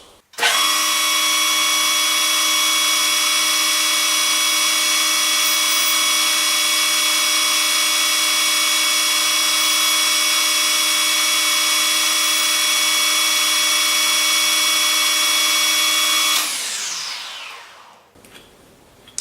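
A metal lathe taper turning with the cross slide and top slide, a loud steady high whine that runs unbroken for about sixteen seconds, then spins down and stops.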